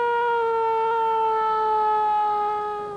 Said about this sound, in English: the fire trucks always changing its siren and changing the horns we have